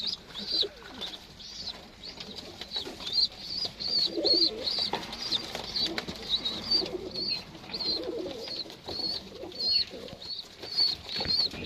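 Pigeons in a breeding coop with nestlings, steady high chirping and cooing throughout with occasional wing flaps as a bird flies out, at moderate distance and no talk.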